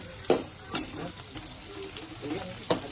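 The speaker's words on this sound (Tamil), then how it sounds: "வெங்காயத்தை போட்டு நல்லா வதக்கணும் சார்." Onions sautéing in a pan while cooking a masala dish, a steady quiet sizzle with a few sharper stir or scrape bursts at irregular moments.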